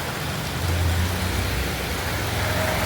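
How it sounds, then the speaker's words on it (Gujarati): Heavy monsoon rain pouring steadily onto wet roads in Rajkot, a dense, even hiss with a faint low rumble that holds unbroken throughout and no voices. "વરસાદ જો ચાલુ થઈ ગયો છે"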